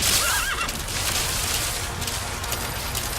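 In Metal Gear Solid 5, a horse lets out a loud neigh at the start, then hooves pound in a fast, continuous gallop over steady rumbling noise.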